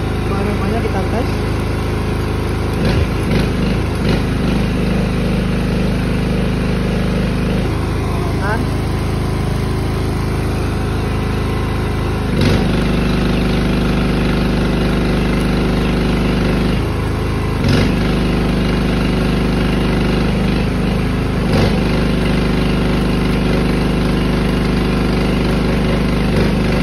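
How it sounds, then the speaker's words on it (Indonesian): A Daiden MiGi 130 PWM welding machine, which has had a failed IGBT, runs under a load test in Palembang. A steady engine-like drone and hum carries throughout, with a few sharp bursts and shifts in tone. "Kita pengetesan uji beban untuk mesin las Daikin di 30 kiriman Palembang"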